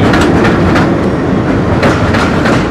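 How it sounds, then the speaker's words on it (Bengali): Train pulling into a railway station in Bangladesh on the way to Rajshahi, a loud steady rumble of rolling cars with repeated clickety-clack wheel beats, close by and continuous with no talk. "মাত্র ট্রেন আসলো"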